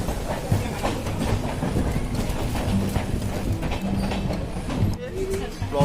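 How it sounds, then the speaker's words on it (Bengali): A local train jolting into motion on its rails gives a continuous loud rumble with rhythmic clatter of the carriages, while passengers talk nearby. "এই তো ট্রেনে ঝাঁকুনি দিয়ে দিয়েছে।"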